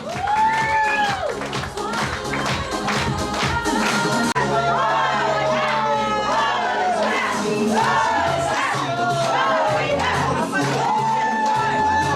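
Wedding guests in a cafe clap and cheer for a table, with crowd noise, shouts and loud music all running together for about twelve seconds.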